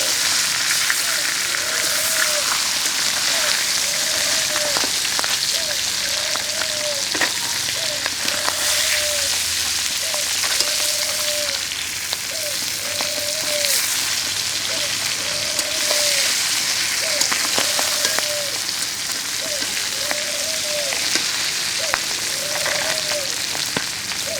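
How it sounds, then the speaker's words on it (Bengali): Tuna pieces frying in a wok, a dense continuous sizzle and crackle of hot oil with a repeating faint tonal chirp in the background. "আরও একবার কড়াইয়ে দিয়ে দেওয়া হয়েছে, ভেজে নেওয়া হচ্ছে মাছ।"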